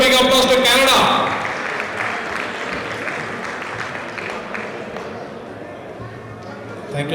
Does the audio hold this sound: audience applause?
yes